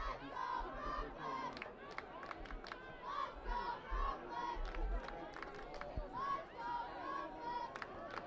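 A home crowd yells and cheers at a high school football game between Conneaut and Brooklyn, with shouts and chanting from the stands in uneven bursts at a moderate distance.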